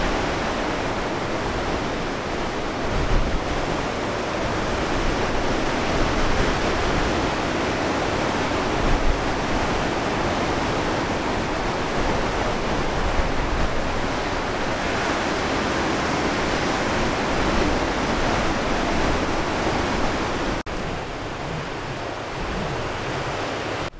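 Ocean surf and swell washing around rocks at a surf break, a continuous loud roar of churning water and wind noise, steady throughout and without speech.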